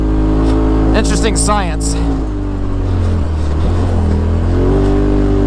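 A 2018 Polaris RZR XP Turbo UTV with a tuned clutch, engine droning steadily and rising in revs at altitude, heard up close with a person talking over it through much of the stretch.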